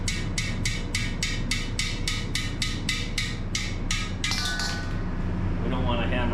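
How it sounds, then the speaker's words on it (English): Stuck rocks being tapped out of metal shaker screens with a hammer, a quick regular run of about a dozen sharp metallic knocks followed by rattling. "Gently hammer them out."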